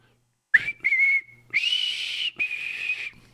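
Someone whistles a show's intro tune in strong, sustained notes: a short rising chirp, a held tone, then two long loud phrases, close and alone.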